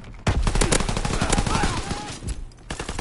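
Gunfire in the World War II shooter game Call of Duty WW2, rapid loud bursts of shots crowding together, with a brief pause and more shots at the end.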